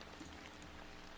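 Rain background noise played back from an online video, a steady soft hiss of rainfall on a surface, faint and continuous with no voices.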